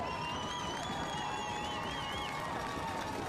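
A soccer stadium crowd at a Sarasota Paradise vs. Union Omaha match roars after a goal, a constant dense wall of cheering with whistles and shrill shouts rising above it.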